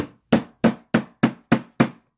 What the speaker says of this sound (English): That's why I pause the video and hammer a beat on it.